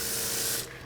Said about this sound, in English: Spray the whole car